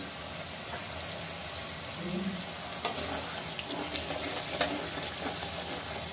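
Chicken karahi frying over full flame as a whole lemon is added to tomatoes cooked down to a pulp, giving a steady close sizzle with occasional stirring scrapes.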